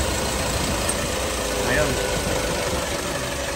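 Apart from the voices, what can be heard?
Isuzu Travis engine idling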